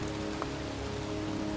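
Heavy rain pours down in a cemetery in the video game Heavy Rain, a dense, even hiss of drops hitting the ground that runs on without pause, with no talking.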